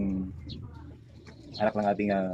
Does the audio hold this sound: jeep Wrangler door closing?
no